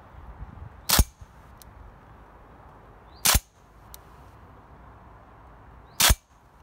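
Three sharp shots from a GBLS DAS GDR15 airsoft rifle firing 0.25 g BBs, spaced a few seconds apart, each with a crisp snap and a faint click just after, over quiet outdoor background hiss.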